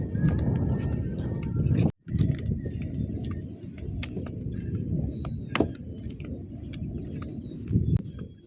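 A horse clip-clops along a town street in Probolinggo, its hooves steady under road and traffic noise. A brief whinny and a jangle of tack or keys break through, and a voice speaks faintly.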